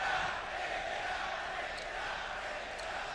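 A large crowd at a Counter-Strike major grand final between FaZe Clan and Cloud9 makes a steady, moderately loud roar of cheering and chanting throughout, with no talk.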